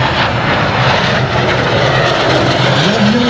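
A Boeing 737-300 jet airliner making a low pass at the Ferté Alais airshow in 2013, a loud, continuous engine roar with a slowly shifting tone.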